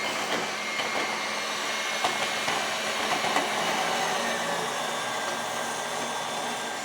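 An electric grain mill runs steadily, grinding homegrown wheat into flour with a loud, continuous whirring roar that holds level throughout, close by and without talk.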